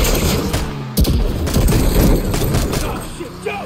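Gunfire rattles through a Call of Duty: Black Ops 6 match in loud, irregular bursts of shots over dense battle noise, with someone talking excitedly among them.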